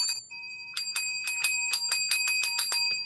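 A bell is rung in quick repeated dings, a brief pair at first, then a steady run of about a dozen bright metallic strikes, close and clear, with no talking.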